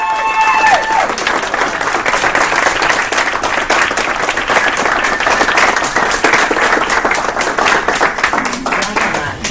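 Audience applause at a business mastermind talk in Sacramento, a dense, steady wash of many hands clapping that runs loud throughout and tapers slightly at the end, with a few brief tones at the start.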